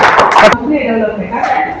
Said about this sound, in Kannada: ನಮ್ಮೆಲ್ಲರ ಪರವಾಗಿ ಒಂದು ಜೋರಾದ ಚಪ್ಪಾಳೆ ಮೂಲಕ ನಿಮಗೆ ಧನ್ಯವಾದಗಳು